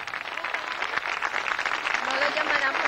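Studio audience applause on a 1989 television show, a sustained, fairly loud patter of many clapping hands mixed with a speaking voice throughout.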